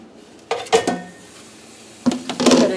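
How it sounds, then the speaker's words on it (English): Lean ground beef dropped into a preheated electric skillet in a home kitchen, heard as two clusters of clattering and clinking contact sounds, close and moderately loud, with quiet pauses between and no talking. "Putting my ground beef in here."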